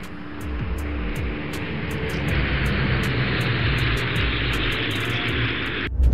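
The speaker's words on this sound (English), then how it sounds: "You can feel the power of the jet." Jet aircraft engine roaring loud and steady close by, a continuous broadband rumble holding for about six seconds before a sharp burst at the end.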